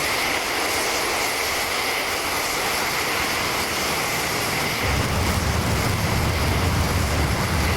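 Eurofighter jets roaring on takeoff in a war-strategy video game at RAF Coningsby, a steady broadband engine rush that grows louder and deeper partway through, with no talking.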